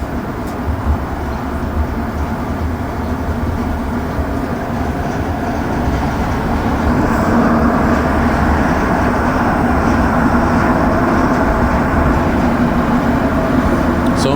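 Montreal Metro Orange Line train running through a tunnel, a loud continuous rumble and roar that builds slightly partway through, no voices.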